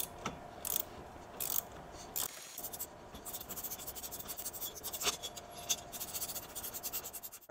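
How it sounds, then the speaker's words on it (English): Eight bolts are tightened on a snowblower mount fitted to a UTV, giving quiet, close metallic ratcheting clicks in quick irregular bursts with no talk. "get all 8 of these bolts tightened down"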